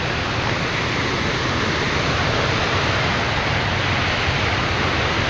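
A waterfall pours down an irrigation channel, a loud, steady, broadband roar of rushing water that fills the whole clip without a pause.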